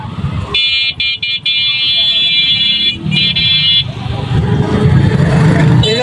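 Heavy traffic jam on a busy city road near Hatirjheel: repeated loud car horn blasts, some short and clipped, others held for about a second, over idling engines and road rumble, with nearby voices talking.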